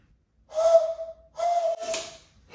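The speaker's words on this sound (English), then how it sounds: "I noticed that it even works when I whistle." A person whistles to trigger a homemade clap-activated light switch, two short steady whistled notes close by, with a brief click or rustle after the second.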